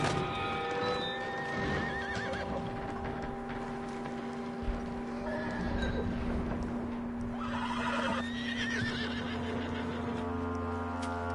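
A horse whinnies several times amid hoof clops and a steady low hum in the video game Red Dead Redemption 2, the neighs rising and falling in shrill bursts.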